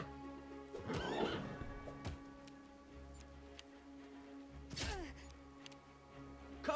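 Horse whinnying in the fantasy role-playing game Pathfinder: Wrath of the Righteous. Two distinct neighs about four seconds apart stand out over quiet ambient game sound, with a few soft clicks and hoofbeat-like taps between them.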